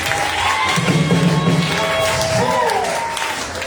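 A church congregation cheers and applauds in acclaim of Jesus, a dense, continuous crowd roar with clapping and voices mixed in, loud and close throughout.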